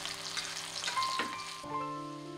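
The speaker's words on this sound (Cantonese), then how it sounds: "將個油鑊呢燒熱，加入上少少嘅油，然後將薑片、蔥白、八角、" Ginger slices, scallion whites and star anise frying in a little hot oil in a wok, giving a steady close sizzle with a sharper burst of crackle partway through, alone without voices.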